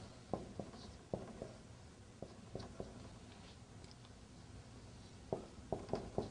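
Chalk or marker writes on a board during an Arabic language lesson in a classroom. Faint, scattered taps and short strokes come in irregular bursts over a quiet room background.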